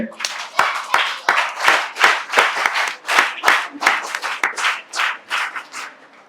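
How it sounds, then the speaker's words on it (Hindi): A small group claps for a child at a health talk, a rhythmic run of separate, crisp hand claps in a steady beat, fairly close, with talking mixed in. "ताली बजाओ इसके लिए"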